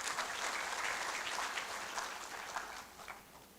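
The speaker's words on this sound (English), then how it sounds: "Let's applaud them too." Audience applause at a scientific research conference opening ceremony, a steady dense patter of many hands that fades slightly toward the end, heard clearly and alone.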